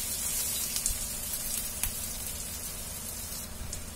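Sliced onion sautéing lightly in a pan for a raw mango curry, giving a steady soft sizzle with occasional faint scrapes of stirring, close and continuous with no talk.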